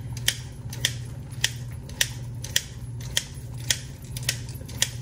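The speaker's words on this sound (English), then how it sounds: "Go in with my scissors and cut this meat up." Kitchen scissors snip through meat for a homemade queso spinach dip, each cut a crisp, close metallic click arriving at a steady rhythm, roughly two per second, over a constant low hum.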